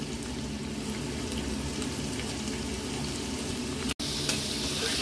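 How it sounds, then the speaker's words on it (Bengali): Boiled green beans and carrots sizzle in a pan with lightly fried onions, a steady dense frying hiss that continues throughout, with a brief sharp drop near the end. "পেঁয়াজটা হালকা ভাজা ভাজা হয়ে গেছে, এবারে বিনস আর গাজরটাকে আমি দিয়ে দিলাম।"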